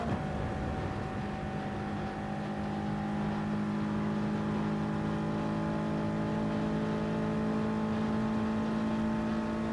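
Racing car engine in Gran Turismo Sport at Spa, a steady sustained drone with held tonal whine, near and alone with no talk.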